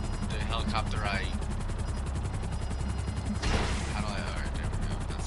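A Sparrow helicopter in GTA Online flies with a steady, close rotor drone and engine whine throughout, with a brief burst of gunfire-like noise partway in and a voice talking over it.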